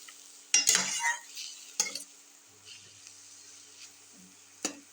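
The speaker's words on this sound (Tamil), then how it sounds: "இதில் உப்பு போட்டு ஒரே ஒரு நிமிஷம் நல்லா கலரி கொடுத்துட்டு" Amaranth greens stir-fry with salt being stirred in a pan: a few scraping, rustling stirs with soft sizzling between them, fairly close and moderate in level, with no talk over them.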